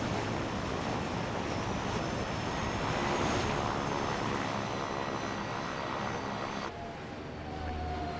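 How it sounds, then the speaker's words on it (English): Propeller plane engine drones steadily and loudly in the Resident Evil Code: Veronica video game, a dense continuous roar that holds for several seconds before dropping in pitch and level near the end. "He's able to fly a frickin' plane."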